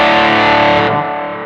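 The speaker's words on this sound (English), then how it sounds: "And let's go back here and switch on the tube screamer." Electric guitar driven through a Tube Screamer overdrive on a Zoom G3Xn multi-effects processor, giving a single sustained, saturated overdriven chord that rings loud and close, then decays slightly after about one second.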